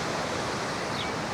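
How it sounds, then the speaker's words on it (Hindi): Muddy flood water flowing after a flash flood in Kumrat Valley, Pakistan: a steady, broad rushing wash with no breaks, moderately quiet and continuous, no voices. "और ये जो सैलाबी रेल आया था उसका पानी बह रहा है, बिल्कुल भी साफ़ पानी नहीं है।"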